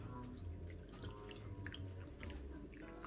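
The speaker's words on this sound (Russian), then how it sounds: "Отправляем таволгу в тазик и как следует моем ее." Freshly gathered meadowsweet is washed by hand in a basin of water, giving soft, continuous splashing and sloshing with small drips, close by and fairly quiet.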